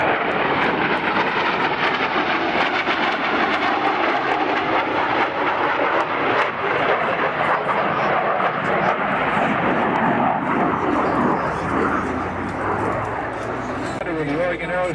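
A Lockheed F-117 Nighthawk stealth jet makes a photo pass at the Oregon International Airshow in 2007, its loud, steady engine roar filling the whole stretch, with a public-address voice speaking over it.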